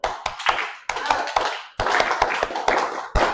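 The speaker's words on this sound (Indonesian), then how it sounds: "tepuk semangat dulu" Students standing in a classroom clap a rhythmic group spirit cheer in Indonesian school style, sharp bursts of hand claps in a patterned sequence with short pauses, close and loud, no talking.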